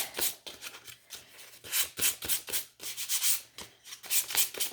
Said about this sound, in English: you can take your sandpaper, this would be your 400 grit sandpaper